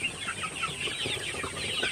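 Chickens in a poultry house keep up a steady, fairly quiet murmur of clucking that blends into a busy background, with no voices over it.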